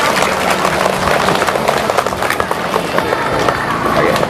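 Clapping from a crowd at a primary school ceremony honoring class rankings, steady and fairly loud throughout, with voices mixed in.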